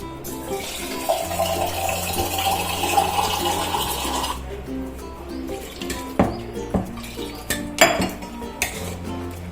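A batter of semolina, rice flour, flour and gram flour is stirred in a bowl, producing steady close scraping, then sharp clinks of a utensil against the bowl, with faint background noise and no speech.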